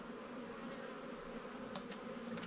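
Honey bees buzz steadily and close in a storm-fallen tree cut open during a bee removal, a dense continuous hum with a few sharper clicks near the end and no talking.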